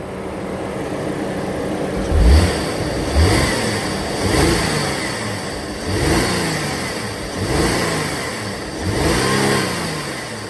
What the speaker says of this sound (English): now I'd like to rev it up a little bit